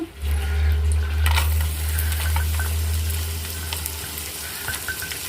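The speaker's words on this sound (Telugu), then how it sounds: "చూడండి, ఇలా ఫ్రై చేసుకుంటున్నాను." Food fries loudly on high flame in a pan, a close, continuous sizzle with occasional metallic stirring taps, alongside a low steady hum of the stove.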